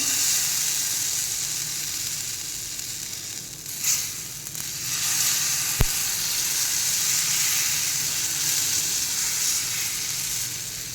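Omelette batter meets a hot frying pan slicked with half a spoon of oil for a crisp tomato omelette, giving a steady, even sizzle throughout with one brief sharp tick partway.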